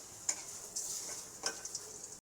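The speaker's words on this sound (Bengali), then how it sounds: "এরকম করে ভাজতে হবে ধোকাটা।" Dhoka lentil cakes fry in hot oil with a soft, steady sizzle and a few brief crackling spits, faint and close, with no voices.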